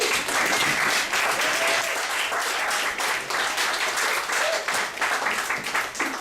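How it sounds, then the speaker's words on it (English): Comedy bar audience in Ottawa breaking into loud, sustained applause and cheering, a dense crowd wash of clapping with occasional whoops, steady for several seconds with no speech over it. "Guys, I want you to make a ton of noise for Wendi Reed."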